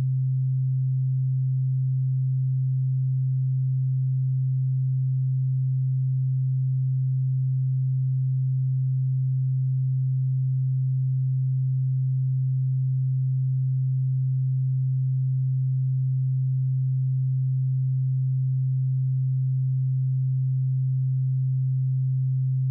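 A steady low sine-wave test tone run through Ozone 9 Vintage Tape harmonics processing, one continuous unchanging hum at constant level throughout, alone with no talk.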